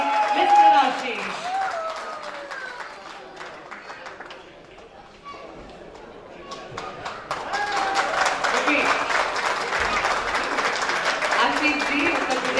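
An audience claps at an annual award ceremony for a paint company as a guest is called to the stage. The applause is faint and mixed with crowd noise at first, dips briefly, then swells into sustained, steady clapping.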